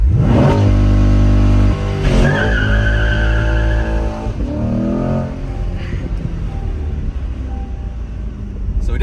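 A Chevrolet Corvette C8 does a launch-control start and a brief burnout: loud, close engine roar and revving with screeching tire squeal, the pitch rising and falling over several seconds before easing into a steady rumble.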